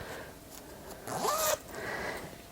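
A zipper on a handmade fabric zip pouch with a floral lining is pulled once in a quick, close rasp lasting about half a second, with quieter handling rustle before and after.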